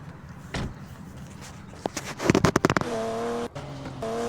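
A car driven in the mobile game Grand Mobile: a low engine hum with brief door-like thuds and a clustered burst of clicks and bangs midway, then a steadier tonal engine whine, fairly quiet and with no talk.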